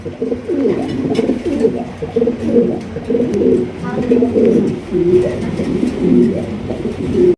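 A male pigeon offered for sale coos repeatedly in a rhythmic, fairly loud series close by, with bird calls from other pigeons around it and a voice talking at times underneath.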